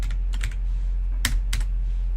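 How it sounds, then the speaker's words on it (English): Computer keyboard keys typed in short clustered bursts, a few quick clicks followed by pauses and two sharper taps near the end, close and clear over a steady low hum. "I'm gonna type Old Navy."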